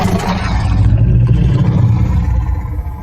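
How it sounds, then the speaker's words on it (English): A Margwa dying in Call of Duty Zombies (Shadows of Evil or Revelations), a heavy, continuous roaring rumble with a deep low-end growl that stays loud throughout and tails off slightly at the end. "This is the sound of a Margwa dying."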